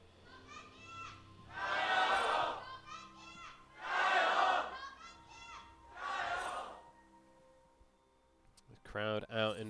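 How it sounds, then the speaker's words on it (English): A big arena crowd at an LPL League of Legends esports match roars in three loud surging waves, with a commentator's voice talking between the swells. "Crowd out in force here"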